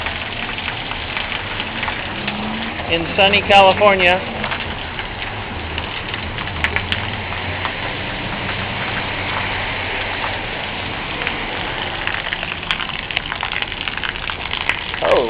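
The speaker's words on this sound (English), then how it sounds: "Just a little bit of rain" Light rain falls steadily in Oroville, California, a soft continuous patter and hiss throughout, with a brief voice speaking near the start and a low idling hum underneath.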